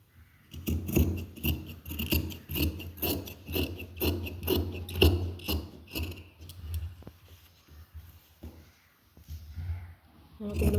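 Scissors snip through fabric and card in a steady run of cuts while a nighty pattern is cut out, close and fairly quiet, with a brief pause near the end before cutting resumes.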